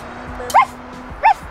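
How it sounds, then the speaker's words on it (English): A dog gives two short, sharp barks about half a second apart, fairly close and fairly loud, over a quiet background with a faint steady hum. "Look at the dog."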